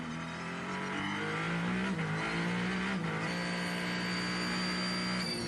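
Ferrari 499P hypercar at the 24 Hours of Le Mans, engine note loud and continuous, shifting pitch as it chases a Toyota into a slow corner, with a brief dip and gear change midway.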